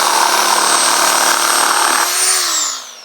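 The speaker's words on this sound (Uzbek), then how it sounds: "Endi mana taxtani kesib ko'ramiz." A power saw fitted with a metal-cutting blade slices through a wooden board, giving a loud, steady high-pitched whine for about two seconds before the motor winds down and fades.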